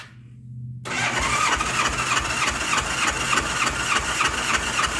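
A Honda Goldwing motorcycle engine cranks over on its starter with the spark plugs removed and the throttle held wide open, a steady fast whirring churn that kicks in sharply after a brief quiet start and runs loud to the end.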